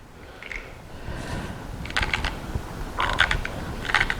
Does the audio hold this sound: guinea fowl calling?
no